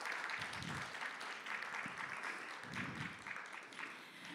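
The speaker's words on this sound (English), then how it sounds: "give a round of applause to ICTC for everything that they have" A room of panel attendees at a discussion on Black women in Canada's digital economy claps together in a short round of applause for ICTC. The applause comes through as steady broadband hand noise, with low thumps and faint voices underneath.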